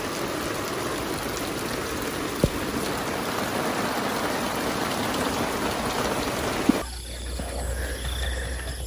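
Steady rain hisses evenly throughout, a dense patter with a couple of sharp drip clicks, ending in a quieter, lower hum.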